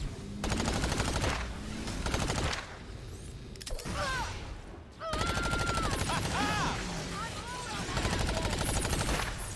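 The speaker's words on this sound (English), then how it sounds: "Uh-oh, it's shooting already." Bursts of enemy gunfire in the video game Agents of Mayhem, rapid automatic volleys mixed with game music and mechanical whirs, with a voice talking over parts of it.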